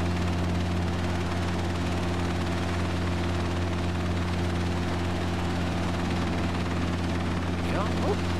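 Steady helicopter rotor and engine drone in a Robinson Beta flight simulator, a continuous loud hum with strong low tonal bands and no change in level throughout, with a person talking over it.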